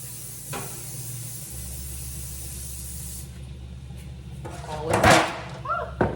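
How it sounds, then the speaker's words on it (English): A steady hiss of a cooking spray can sprays over a kitchen sink for a few seconds, then stops; a short louder burst of spraying follows amid soft kitchen clatter. "I'm gonna spray this over the sink"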